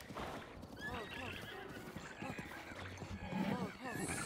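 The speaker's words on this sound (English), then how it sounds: "Oh, horse, horse, horse!" A horse in the video game Zelda Breath of the Wild neighs in repeated whinnies with clip-clop hooves, while a voice talks excitedly over it at moderate volume.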